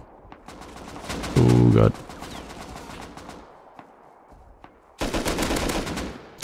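Gunfire in the survival game Rust comes in two loud bursts, one brief and one sustained near the end, with someone talking over the shots.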